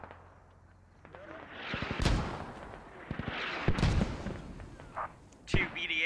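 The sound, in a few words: mortar fire in a video game (Squad)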